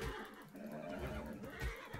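A horse neighs in the survival video game ARK, a quiet, brief whinny over low game ambience with faint hoof-like thuds.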